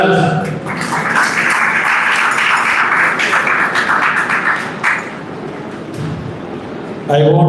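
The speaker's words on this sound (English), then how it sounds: "Please again a huge round of applause for the winners." A large crowd at an Engineers Day celebration at a university in Punjab applauds award winners, sustained dense clapping for several seconds, with speech over a public address system at the start and end.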